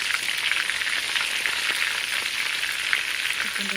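Chicken pieces fry in a pan with a dense, even hiss of sizzling oil that holds steady throughout, close and loud, with no talking.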